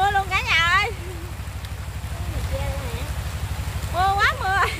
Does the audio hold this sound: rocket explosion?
no